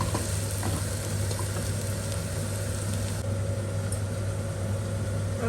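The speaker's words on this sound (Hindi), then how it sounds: "अब इसमें मैं ऐड करूँगी गार्लिक जिंजर की पेस्ट 2 टेबलस्पून। अब इसे भी थोड़ी देर के लिए भून लेंगे।" Garlic ginger paste fries with browned onions in a pan, giving a continuous dense sizzle over a low steady hum, with no talking.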